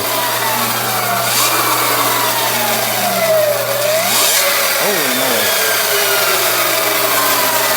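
An electric bike with a BAC 4000 motor controller running on a stand, a loud continuous whine that sweeps up and down in pitch as the motor speeds up and slows, with no talking.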